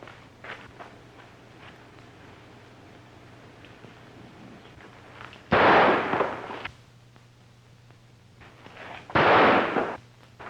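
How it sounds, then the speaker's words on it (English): Gunshots in a 1938 Western film: two loud, roughly second-long blasts several seconds apart stand out over a quiet soundtrack with a low steady hum. "you think that shot was meant for me?"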